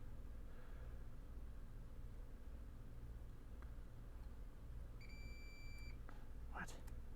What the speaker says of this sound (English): Oh, they stop beeping.